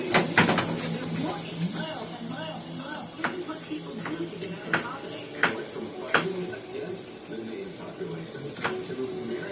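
Onion and green pepper cooking down in a pan, a soft steady sizzle running under scattered clinks and knocks of a utensil against the pan, with a steady low hum throughout and no talk.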